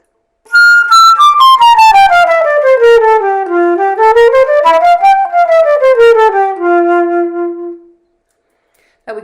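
A flute plays a smooth connected run of notes, descending, rising and falling again, each note lightly tongued without gaps, ending on a held low tone.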